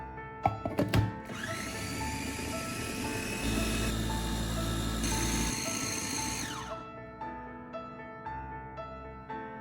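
A blender whirs loudly for several seconds, blending oats with milk and baking powder, its motor pitch rising and settling, then winds down with a few clicks and rattles.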